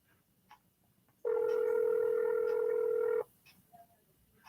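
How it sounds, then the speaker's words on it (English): A three-line phone dialer sounds a steady electronic bing when a call is answered, a single loud sustained tone lasting about two seconds, rising above quiet background noise and then cutting off cleanly. "when you hear that bing, that means somebody answered"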